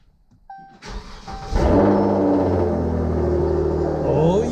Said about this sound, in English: You might as well start the car now to warm it up.